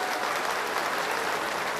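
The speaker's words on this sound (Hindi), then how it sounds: "एक बार पूरे मंच के लिए जोरदार तालियां होनी चाहिए मित्रों" Loud, steady applause from a rally crowd for the people on stage at an event about the Arjun Sahayak project inauguration, a dense unbroken wash of clapping.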